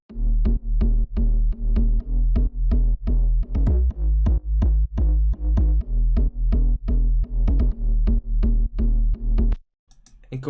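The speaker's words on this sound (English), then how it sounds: "Together the bass now sounds like this." A layered synth bass line in the style of a house track pumps in regular, punchy notes with a sidechained, pulsing rhythm, then cuts off abruptly near the end.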